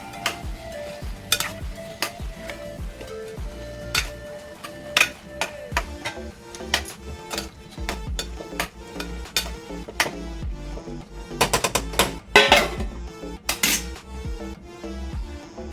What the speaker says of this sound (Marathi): आणि आता छान व्यवस्थित मिक्स करून घेऊया आणि वाफेवर शिजू देऊया जरा पाच मिनटं